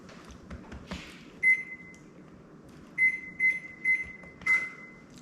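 A kitchen oven's control panel being set to preheat to 425, sounding a series of short clear electronic beeps: one, a pause, then four quick beeps in an irregular rhythm, close and fairly quiet over faint button presses.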